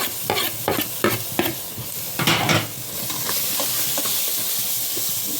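Ground masala of coconut, cumin and fennel hits hot oil in a pan for avarai kulambu, giving a steady close sizzle with a few sharp stirring scrapes early on, then an even frying hiss.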